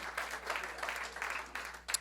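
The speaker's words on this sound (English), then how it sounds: "How about a round of applause for the staff, everybody?" Audience applause at a comedy club, a steady wash of clapping from a crowd held for the full two seconds, with a brief louder burst near the end.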